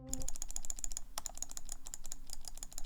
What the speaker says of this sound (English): the sound of clicking just calms me down